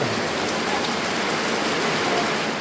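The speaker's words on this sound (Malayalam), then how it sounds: "നല്ല സൂപ്പർ മഴയാട്ടോ മഴ മാത്രമല്ല കാറ്റാണ് ഭയങ്കര" Steady, dense rain with strong wind pouring down close by, a constant heavy hiss with no pauses and no voices, at an eco-tourism site in Konni, India.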